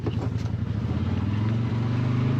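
A 2025 CF Moto Uforce 800 XL four-seat UTV turns around in snow, its engine holding a steady low, buzzing hum at moderate revs throughout, close by.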